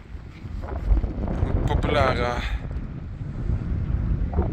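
Strong wind buffets the microphone on the open beach at Rømø, a continuous roaring rumble under a voice speaking close by.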